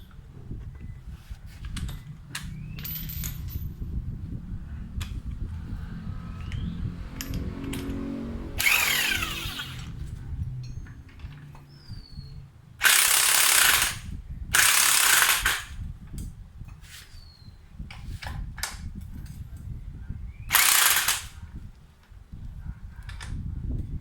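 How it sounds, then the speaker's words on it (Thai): A power tool fires in several loud, short bursts while compressing the coil spring of a Toyota Altis shock absorber, with quieter ratcheting clicks and metallic handling between the bursts. "เดี๋ยวผมทำการยิงสปริง ล็อกสปริงครับ ให้มันต่ำลงอีกครับ"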